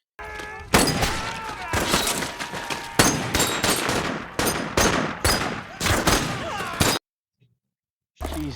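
Intense battle gunfire from the WWII war drama The Pacific, set on Okinawa: loud, dense volleys of rifle and machine-gun shots in repeated bursts with shouting, then a sudden cut to near silence before the noise resumes.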